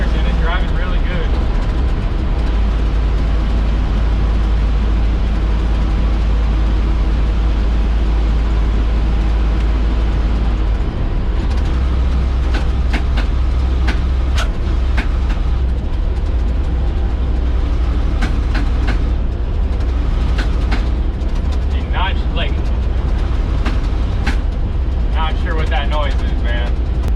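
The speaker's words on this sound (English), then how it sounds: "But I'm in 5th gear right now, I'm floating these gears and it's driving really good." An old farm truck cruises in fifth gear on a main road, its engine a steady loud drone throughout with rumbling road noise and occasional rattles, no speech over it.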